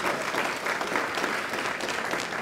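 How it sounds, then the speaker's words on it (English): An audience applauds musicians after a film screening, a dense, steady burst of clapping from a large crowd filling the room. "Big round of applause for the fantastic musicians."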